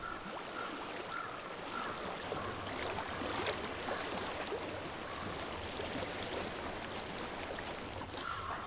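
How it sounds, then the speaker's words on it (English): Water flows and trickles continuously at a low, steady level, with a soft ambient wash and no voices. "I hear water. Go to it."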